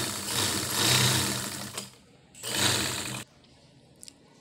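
A sewing machine stitches the seat seam of a pair of trousers in two loud, close, whirring bursts of about two seconds and one second, separated by a short pause, with quiet handling clicks afterwards.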